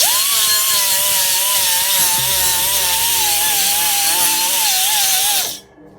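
Pneumatic air tool scuffing an aluminum cover to a brushed finish on an F-body Camaro, a loud steady high-pitched whine with abrasive hiss that holds for about five seconds before cutting off abruptly.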